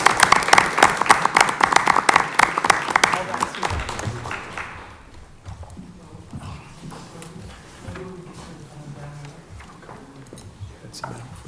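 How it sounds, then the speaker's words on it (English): Audience applause at a board of education meeting, a burst of clapping for a student and his host family that fades after a few seconds, followed by quieter room murmur and chatter. "we'd love to give you a warm round of applause"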